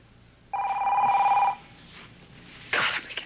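A telephone rings once, loud and close for about a second as a steady electronic trill, then only faint indoor background remains.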